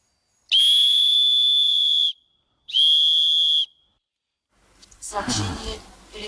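A shrill whistle is blown twice: a long blast of about one and a half seconds, then a shorter one, loud and near, followed by people talking.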